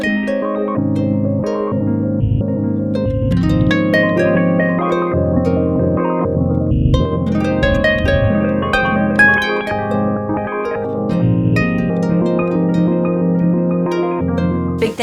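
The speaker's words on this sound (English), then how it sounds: "So now it can make cool arpeggiation sounds like this" A synthesizer module plays a continuous arpeggiated pattern of quick stepping notes, bright and up close, running steadily for the whole stretch with no voices.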